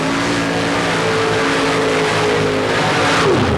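A paddle-tire mud racing vehicle, the Intruder driven by Tom Marsh, tears through a mud pit at a 1990 race in Bayou George, Florida, its engine a loud, steady, close roar that surges slightly toward the end.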